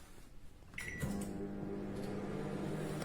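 Samsung MG23K3515CK grill microwave oven switched on: a click and short beep, then a steady low hum from the running oven that carries on alone at a close, quiet level.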